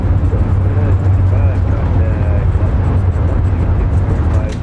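iniBuilds Airbus A350 in the game MSFS2024 using reverse thrust on the landing rollout: a steady, loud, broad roar that eases slightly, with a voice faintly underneath.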